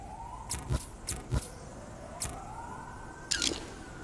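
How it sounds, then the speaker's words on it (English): Police siren in the video game Infamous: Second Son, a rising and falling wail held steadily in the background, with a few sharp clicks and thumps over it. "Reg, I'm hearing sirens, man"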